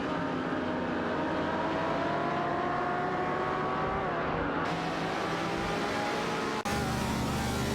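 Race cars, a 1970 Ford Maverick and a 1967 Chevrolet Impala SS, roar through a racing video game with continuous engine whine and shifting pitch as they accelerate and pass, loud and unbroken.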